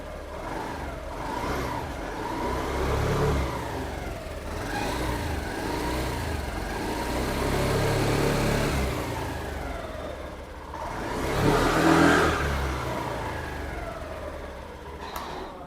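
Honda Activa 6G scooter engine revved repeatedly up close, rising and falling throttle blips in several waves with one stronger rev near the end, alone without talk.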